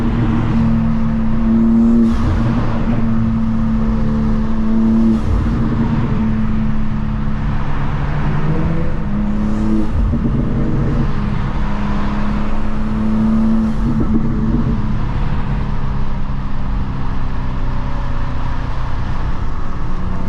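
Tuned Infiniti Q60 and BMW M2 on a highway, engines droning loudly and steadily with repeated rising rev surges throughout, close and dominant with no voices.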